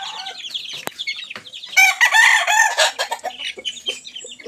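Chickens cluck and a rooster crows on a small backyard farm, busy and close, with overlapping hen calls swelling to a loud burst of crowing in the middle before settling back into scattered clucks.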